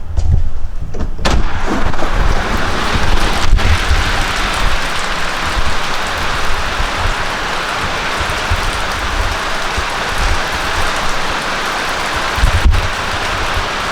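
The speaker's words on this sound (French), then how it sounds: "Je ne sais pas si on se rendait compte du bruit et de vraiment comment il pleut." Heavy rain pours steadily in a dense, constant roar, with a couple of faint knocks or clicks breaking through.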